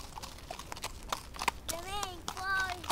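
Horse hooves clip-clopping during a horse ride, a series of light, irregular hoof knocks under a voice and other talking.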